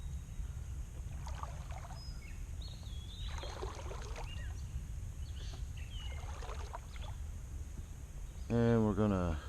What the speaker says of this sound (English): I'm going to use my hands instead of the paddle